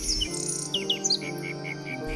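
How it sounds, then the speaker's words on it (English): A nightingale in an animated moral story sings a run of quick, bright chirps and short trills over a sustained musical background, with no voices. "Its voice sounded just like a nightingale's."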